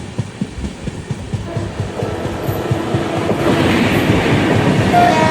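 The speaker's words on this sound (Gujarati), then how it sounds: "સામેની સાઈડ તમે જે ટ્રેન જોઈ રહ્યા છો તે કહેવાય વીસ નવસો પચાસ એકતાનગરથી ચાલીને અમદાવાદ સુધી જતી જનશતાબ્દી એક્સપ્રેસ છે" The Janshatabdi Express passes on the opposite track, a rhythmic clickety-clack of wheels over rail joints that builds into a louder, steady roar of rolling coaches close by.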